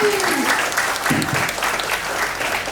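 Live audience applause at an arts festival show, a steady crowd of clapping filling the whole stretch, fairly loud and close, with a little voice underneath.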